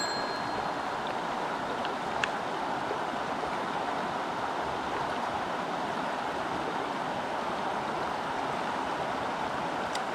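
Steady broadband rush of the Catawba River flowing close by, a continuous even wash with no voices.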